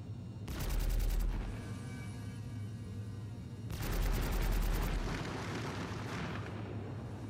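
Two long, loud bursts of rapid remote turret gunfire from a Drake Corsair ship in Star Citizen, each lasting about a second and followed by a rumbling tail over a steady engine hum.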